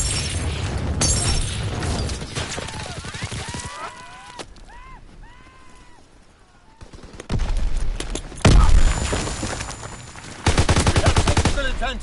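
Call of Duty WWII on PS4 combat: loud sustained machine-gun fire rolls through most of the stretch, with heavy explosion booms bursting in near the end, voices chattering beneath the battle noise.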